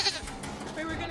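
Goats bleating close by in a short burst, the calls overlapping with a busy background and a voice talking at the same time.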